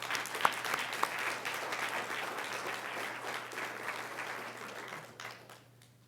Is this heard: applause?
yes